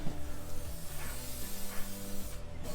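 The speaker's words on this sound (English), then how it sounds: "We'll give that a liberal spray." An aerosol can of Inox lubricant hisses in a series of short bursts inside a car body panel, close and fairly quiet, with no talking.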